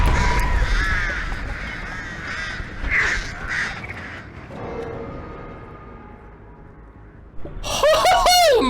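Dire Crows from the Artist killer's power in Dead by Daylight: a flurry of harsh, overlapping caws and squawks, loud and close, thinning into a low rumble before a sudden burst of screeching cries near the end.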